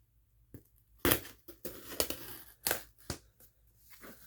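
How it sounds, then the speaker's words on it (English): A kitchen knife works open a package for a Sears 462.57361 smoke alarm, giving a series of close, irregular crunching and tearing bursts with quiet gaps between them. "I don't have any scissors, so actually I have to use a kitchen knife"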